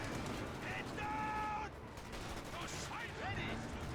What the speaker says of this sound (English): I'm not sure with the Panzerwerfer barrage coming on in.